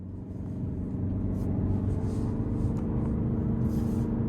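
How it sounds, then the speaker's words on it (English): A 2026 Toyota Camry SE drives on the road, a low steady engine and road rumble heard from inside the cabin, even and moderately loud. "let's go ahead and take this 2026 Toyota Camry SE out on the road for a test drive"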